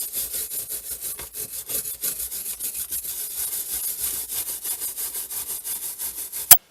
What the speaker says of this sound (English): removing this surface grime from the top of the radio chassis with this fine wire brush